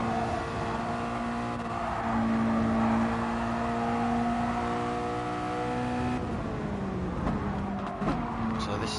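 A Mazda touring car laps Kyoto Driving Park with a sustained engine drone that rises and falls through gear changes, steady and fairly close throughout, while a commentator's voice runs faintly beneath.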